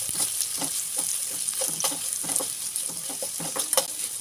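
Onions, green chilies and curry leaves fry in a pan over low heat for lemon rice, giving a steady close sizzle broken by repeated scraping stirs and clinks of a spoon, with no talk.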